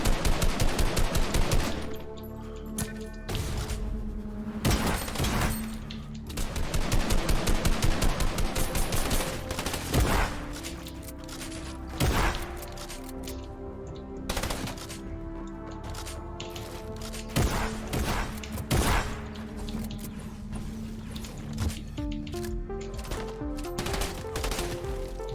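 Gunfire from the video game Fortnite, including shotgun blasts, comes as loud sharp shots and rapid bursts throughout, with sustained stretches of fire separated by brief lulls.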